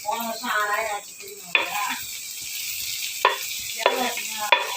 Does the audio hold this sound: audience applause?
no